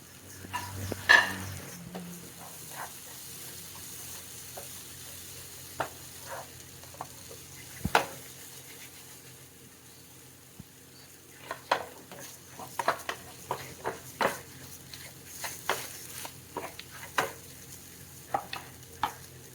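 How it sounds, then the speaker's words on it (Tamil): Anchovies fry and get stirred in a pan, a steady soft sizzle broken by scattered scraping clicks of a utensil against the metal, the clicks thicker in the second half, with no talking. "இதோட நம்ம ஃப்ரை பண்ணி வச்சுருக்கிற ஃபிஷ்ஷும் ஆட் பண்ணிடலாம்."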